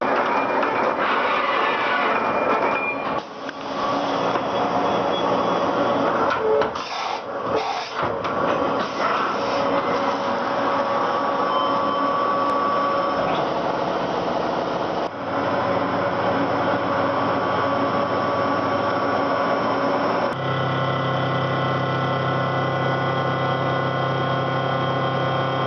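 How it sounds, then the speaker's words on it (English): A CNC machine tool carousel cycling around and automatically swapping a tool, heard as a continuous loud mechanical whir and hum with shifting motor tones, brief clunks, and a change in pitch near the end. "the machine will cycle that around into the position to where it changes the tool out automatically"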